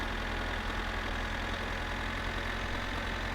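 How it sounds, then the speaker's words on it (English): A tractor engine in a video game idles and chugs at a steady, even drone, heard alone with no talking. "And you'll forever just hear the tractor"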